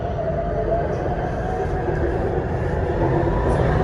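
A subway train runs through a dark tunnel between stations with a loud, steady low rumble and roar, rolling on without a break.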